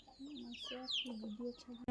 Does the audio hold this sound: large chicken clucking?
yes